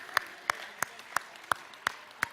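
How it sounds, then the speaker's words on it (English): Slow, evenly spaced claps ring out at a physical movement session, seven sharp, quiet strikes at a steady rhythm over a faint background. "Give them a round of applause, everybody."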